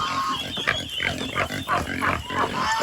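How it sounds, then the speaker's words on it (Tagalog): Farm turkeys make a close, busy mix of gobbling and grunting calls, rising and falling over steady farmyard background noise. "So ito yung mga pabo."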